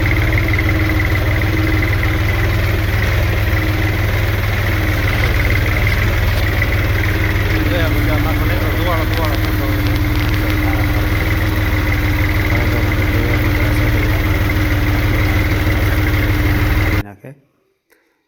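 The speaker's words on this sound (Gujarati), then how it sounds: "મોટા ટ્રેક્ટરથી" A tractor engine runs steadily while spraying crops, with a deep, constant rumble and a droning hum, close and loud, cutting off abruptly near the end.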